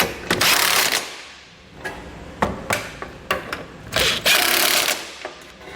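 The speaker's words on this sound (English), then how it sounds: "We're going to start with our nuts using our 15mm socket." A ratchet with a 15mm socket tightens nuts on a hidden hitch receiver on a 2016 Volvo, making close, sharp clicking bursts in quick irregular runs with brief pauses.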